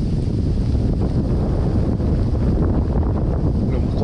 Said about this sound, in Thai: ลมโคตรแรงเลยพี่น้องเอ้ย